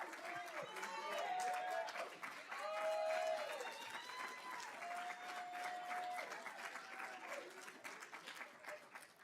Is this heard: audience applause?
yes